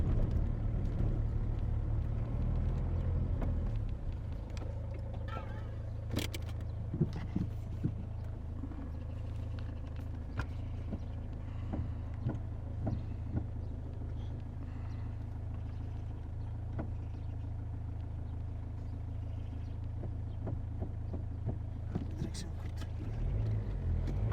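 A Renault Megane with a worn steering box gives scattered faint tak-tak clicks and knocks as the wheel is turned left and right, set against a steady low engine rumble.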